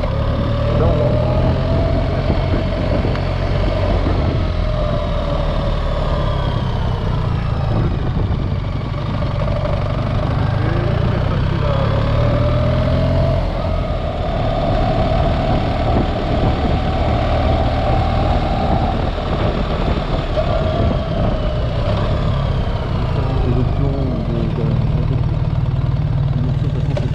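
A 2024 BMW R1300GS motorcycle with automatic gearbox riding along a road, its engine a steady mid-pitched drone with wind rush, rising slightly in places over about half a minute.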